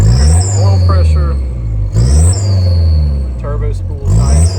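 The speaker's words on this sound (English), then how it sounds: "turbo spools nicely. You have that good exhaust sound." A 1995 Toyota Land Cruiser KZJ73 with the 3.0L 1KZ-T turbo diesel revs hard and loud, rising and falling in repeated surges with turbo whine and exhaust rumble close by.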